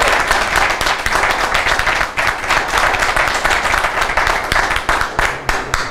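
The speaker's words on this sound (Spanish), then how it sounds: "Démosle por favor, un saludo y un aplauso" A crowd applauds steadily, many hands clapping together in a dense, sustained burst that carries on without a break.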